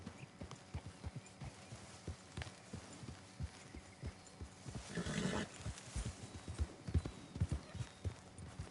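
Horse hooves clip-clopping in the Western game Red Dead Redemption 2, a steady walking rhythm of soft low thuds close by, with a brief louder swell midway and faint voices underneath.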